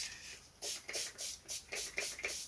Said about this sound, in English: It'll help it to go round if you moisten it, so I'm going to spray it